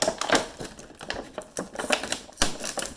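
Packing tape being pulled off a cardboard box in several sharp ripping bursts, with short pauses between, close up and fairly loud.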